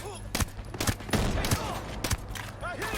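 Several sharp, close shots from a P320 pistol in the Ghost Recon Breakpoint game ring out at irregular intervals, each a hard crack with a short tail, over faint in-game ambience.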